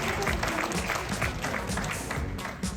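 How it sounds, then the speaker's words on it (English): An audience at a reunion speech claps in a short, steady burst of close, dense applause lasting a few seconds. "Please give her a round of applause."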